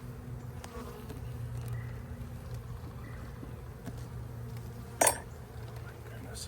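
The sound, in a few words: honeybees buzzing during a hive split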